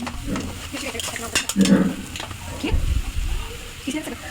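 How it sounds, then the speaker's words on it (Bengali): Two eggs are stirred and scrambled in a little oil for atta noodles, with scraping spoon strokes over a soft sizzle, while a voice talks over the cooking. "দুইটা ডিম দেওয়া হয়ে গেছে তো এগুলো এখন ঝুড়া ঝুড়া করে নিবে"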